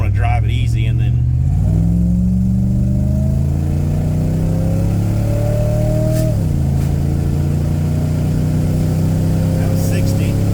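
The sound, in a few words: Avanti car accelerating hard on first drive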